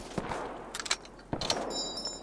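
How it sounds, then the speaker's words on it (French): Grenade launcher fire in the Roblox war game, with several sharp, quiet bursts and clanks spaced irregularly over a faint background. "C'est ça où j'ai un lance-grenade."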